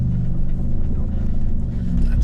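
A Chevy Silverado Bison pickup charges fast over dirt whoops with a loud, steady low engine rumble close by, and a voice talks over it briefly.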